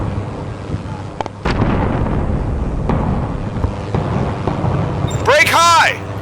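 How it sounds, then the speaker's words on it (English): Explosions and flak bursts in a dramatized World War II air battle over Malta, with a Spitfire exploding: heavy rumbling blasts and sharp thumps under a continuous roar, ending in a loud whining swoop, with narration over it. "A Spitfire to his left explodes."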